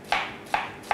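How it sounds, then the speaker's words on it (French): A knife slices onions finely on a cutting board, three crisp, close strokes at a steady pace, each a soft crunch ending in a board tap, with no talking. "On va venir émincer finement nos oignons"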